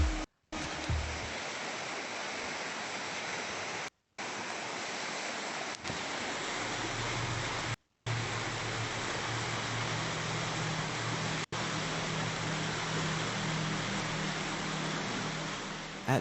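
A waterfall beside a lake shoreline pours in a steady, broad rushing roar, close and constant, briefly cut by a few short gaps of silence.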